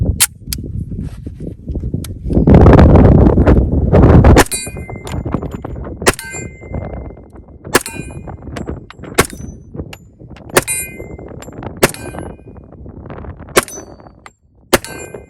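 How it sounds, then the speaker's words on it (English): A TISAS Night Stalker 1911 pistol fires 230-grain copper-plated rounds outdoors in Wyoming, with about a dozen sharp, loud shots at an uneven, steady pace. Several carry a ringing metallic ping, and a gust of wind rushes past early on. "we're going to shoot the copper plated ones first and see how she does"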